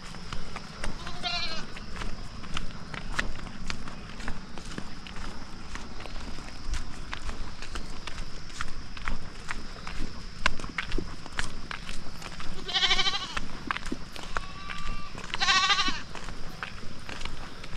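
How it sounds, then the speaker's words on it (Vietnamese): Two goats bleating at a rural home in Vietnam: three short quavering bleats, one early and two later, over footsteps on the ground and outdoor ambience. "Anh nghe thấy từ xa là thấy là hai con dê ở nhà là cũng đang kêu lên rồi"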